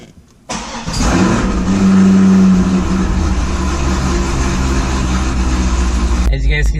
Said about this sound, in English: The engine's revving just fine.